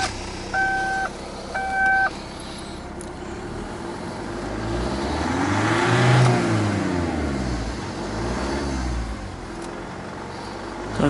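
A Ssangyong Kyron engine, running during an EGR cleaning with Lucas Oil EGR cleaner, is revved up toward 2000 rpm, its steady drone swelling to a peak midway and then settling, preceded by two brief beeps.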